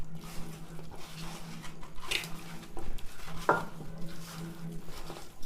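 Chicken legs are worked by hand with ginger garlic paste in a bowl for a leg fry, making soft wet squelching and stirring noises with occasional light knocks against the bowl, close and without talk.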